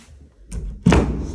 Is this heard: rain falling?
no